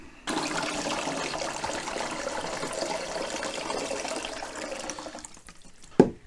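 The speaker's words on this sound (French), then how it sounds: "cette fois je remplis avec de l'eau" Water fills the tank of an ultrasonic cleaner used for cleaning injectors, giving a steady rushing pour that runs for several seconds and ends with a sharp knock.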